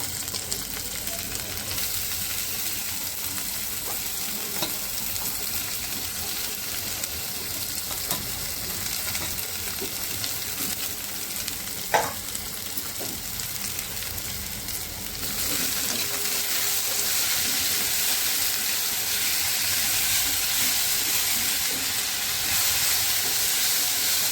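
Guava leaves sautéing in a frying pan give a steady, close sizzle and hiss that runs throughout, growing slightly louder partway through, with one brief scrape or clink near the middle.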